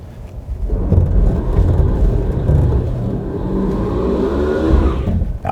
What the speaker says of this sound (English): Okay, here we go, rolling onto the throttle.